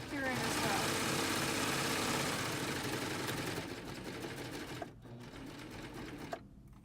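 A serger sewing machine runs steadily while stitching fabric for a snack bag, a loud continuous whirring hum that eases off and slows partway through, with a couple of brief pauses near the end.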